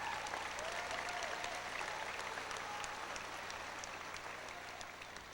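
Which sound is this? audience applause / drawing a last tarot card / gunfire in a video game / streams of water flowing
audience applause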